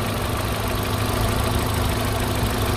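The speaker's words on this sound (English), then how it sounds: "Okay, let's start the engine. Okay, the engine sound." A 2010 Kia Morning with 88,000 km idles steadily at close range, a smooth, even engine hum with no talk over it.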